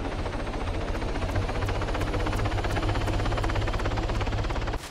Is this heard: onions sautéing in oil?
no